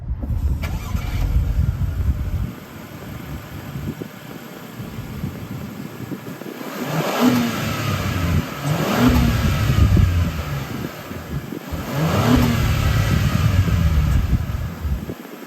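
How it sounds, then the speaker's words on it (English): A 2022 Acura MDX Type S with quad exhaust starts and idles, then revs three times in spaced bursts, each swelling and falling back, heard close from outside the vehicle. "let's see how that sounds"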